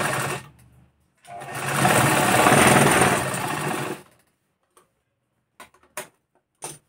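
A sewing machine stitches the joint on a blouse sleeve in one steady, fairly loud burst of about three seconds, followed by a few faint, scattered clicks and handling sounds.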